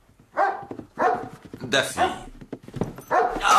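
A dog answers a whistle with a series of loud, close barks in quick bursts, mixed with a person speaking.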